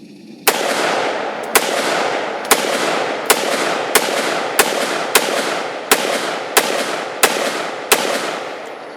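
A firearm fired outdoors in about a dozen sharp, loud single shots at a steady, unhurried pace, each crack followed by a lingering echoing tail.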